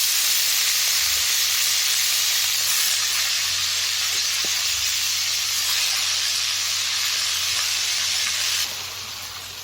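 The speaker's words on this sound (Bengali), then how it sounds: "এবারে শাকগুলো দিয়ে দেবো বন্ধুরা, যে শাকগুলো কেটে ধুয়ে রেখেছি" Leafy greens hit a hot pan with a loud, broad steaming hiss that holds steady for several seconds, then drops off sharply near the end, with a low hum underneath.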